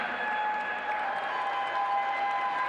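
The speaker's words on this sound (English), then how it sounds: "Round of applause, Santa Cruz Boardwalk Bombshells." Steady applause and scattered cheers rise from a roller derby crowd at the Cactus Cup, a continuous moderate wash of clapping with a faint tonal hum running underneath.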